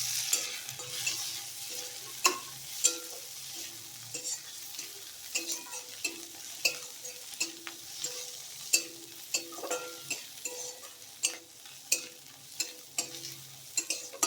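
Spices with bay leaf and chopped tomato fry in a pan, a thin sizzle punctuated by sharp, regular spoon scrapes and taps against the metal, close up and with no one speaking.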